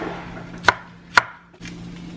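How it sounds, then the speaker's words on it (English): A knife cuts through a chunk of lettuce on a cutting board, giving two sharp, close chops about half a second apart, followed by a softer third cut in a quiet room. "this is a chunk here, so I'm just gonna cut it up"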